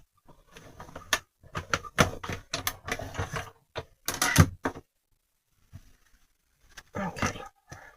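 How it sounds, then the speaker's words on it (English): A craft cutting machine works through a stack of pieces cut all at once, giving close, intermittent bursts of whirring and clicking motor movement separated by short pauses. "run all those through the machine, so everything's going to get cut all at the same time"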